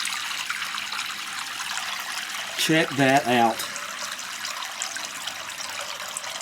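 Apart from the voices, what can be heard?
hot water flowing from newly plumbed tap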